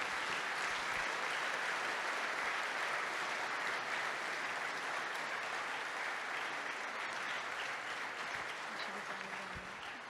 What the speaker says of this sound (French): si vous voulez l'applaudir